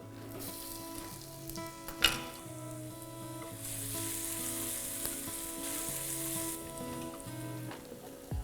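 Cumin seeds, asafoetida and ginger sizzling in hot oil for a fenugreek dal tadka, a close steady crackling hiss with a sharp pop near the start and a soft background hum.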